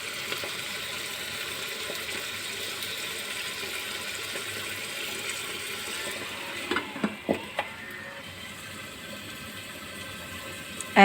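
A FANLAI automatic cooking machine stirring and frying chicken by itself, giving a low, continuous sizzle and hiss, then a few sharp clicks and scrapes near the end.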